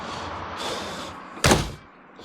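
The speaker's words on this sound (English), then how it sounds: "Let me close this door real quick." A motorhome door, on a 2025 Entegra Accolade Super C diesel coach, closes with a single sharp, loud slam after some quieter rustling, followed by faint ambience.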